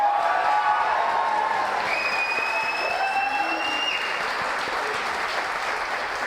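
A wild crowd at a live sports talk show applauds and cheers loudly and steadily, with a dense wash of clapping filling the whole stretch and a few whistles rising above it.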